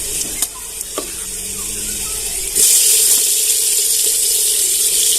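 Water is poured into ambadi (sorrel) leaf curry cooking in a pot: a few soft clinks, then a sudden, steady rush of hissing splash that continues loudly to the end.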